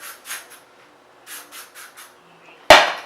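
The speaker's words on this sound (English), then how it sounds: "I'm going to take more of this and spray it everywhere." Several short hissing bursts of hairspray, then one louder, longer spray at the end, close by, with no talking.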